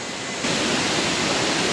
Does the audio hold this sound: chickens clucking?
no